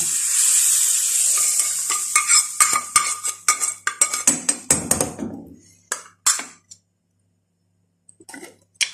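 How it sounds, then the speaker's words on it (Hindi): Bagar tempering for Hyderabadi mutton dalcha: a loud, bright hiss of hot oil sizzling, then a burst of sharp spoon and pan clinks as it is stirred, trailing off into silence with a last few taps. "बघार ज़रूर आप डालिएगा, बघार से ये दालचे की बहुत अच्छी खुशबू आती है"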